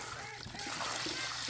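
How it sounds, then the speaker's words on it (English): Tap water runs steadily into outdoor water containers set out for wild animals, a continuous close splashing and trickling that fills the whole moment without any talk. "to let it run for just a minute before I can fill my water containers"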